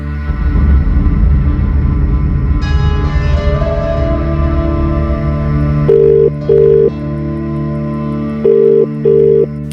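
A phone call is placed, steady electronic tone and hum, followed by two pairs of repeated ringback beeps at a moderate level, with no voices.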